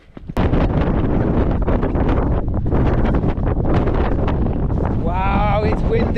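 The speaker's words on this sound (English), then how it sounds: "Wow, it's windy up here." Strong wind buffets the microphone on an exposed Northumberland hilltop, a loud, continuous roar with gusty surges throughout, and a voice briefly joins near the end.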